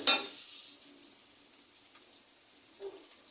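Tilapia and pangas fish frying in oil in a pan, a steady hiss of sizzle throughout with a louder burst at the start and a faint clink near the end.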